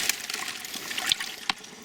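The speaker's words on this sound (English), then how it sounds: "I'm going to push these under the water" Vegetables are pushed under the water in a garden ferment tank, giving soft, close sloshing and trickling with a few small splashes and no speech.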